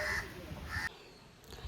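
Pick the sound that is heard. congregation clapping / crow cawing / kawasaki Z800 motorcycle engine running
crow cawing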